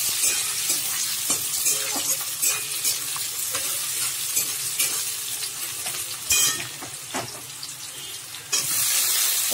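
Onion goes into a pan of reddened garlic frying in oil for chowmein, giving a continuous close sizzle with scraping stirs and clinks, plus a brief louder burst near the end.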